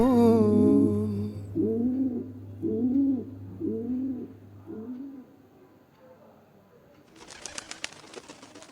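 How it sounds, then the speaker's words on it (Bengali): A pigeon coos in a run of four or five rounded, throaty calls spaced about a second apart, close and clear, followed by a quiet pause and then a burst of crackly, broadband noise near the end. "পায়রাটা আবার ফিরে এলো নাকি?"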